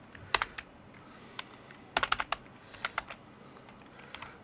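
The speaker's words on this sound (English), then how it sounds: "I think I'm gonna have to type it in this way" Keys on a computer keyboard tapped out in short irregular bursts with brief pauses, clear and close against quiet room noise, while a username is entered.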